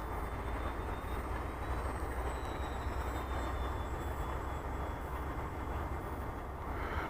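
An RC model airplane's small engine buzzes steadily at a distance at about half throttle in near-freezing air, a constant droning whine with a slight pitch drift, with no talking.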